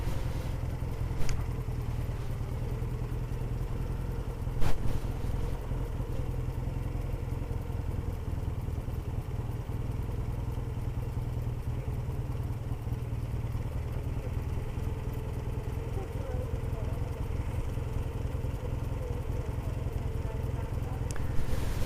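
A BSA 650 A10 twin motorcycle runs steadily on the road in the Cotswolds near Nailsworth, its low engine drone constant and moderately loud with wind rumble and a few faint clatters, no talking.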